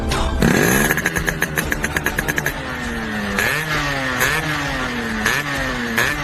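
A 1995 M80 two-stroke motorcycle starts with a burst of rapid popping, then settles into a buzzing idle that rises and falls with several blips of the throttle, close and loud.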